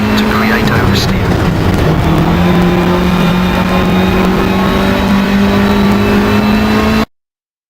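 A rally car's engine holds a steady high drone at sustained throttle, loud and continuous with faint tonal harmonics, in the Richard Burns Rally driving game, cutting off abruptly at the end.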